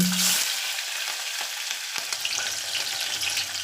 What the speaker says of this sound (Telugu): పుదీనా వేసుకోండి కొంచెం కరివేపాకు వేసుకోండి ఆయిల్లో మంచిగా గోలియండి